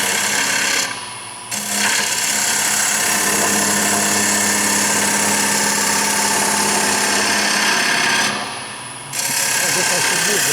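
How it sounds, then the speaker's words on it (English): A grinder sharpens a woodturning gouge to a 40-40 Stewart Batty grind, giving a loud, sustained abrasive whine that dips briefly twice as the tool is lifted and reapplied. "This is a 40-40 grind, Stewart Batty grind."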